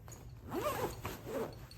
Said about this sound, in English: and zip it up